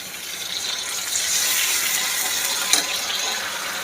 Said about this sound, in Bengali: দিয়ে দেবো অল্প পরিমাণে জল